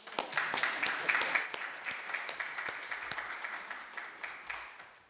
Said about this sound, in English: I think we can clap.